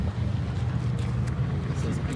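Two 12S Arrma Kraton RC cars strain against each other in a tug of war, their electric motors and drivetrains making a steady, loud low rumbling whine throughout.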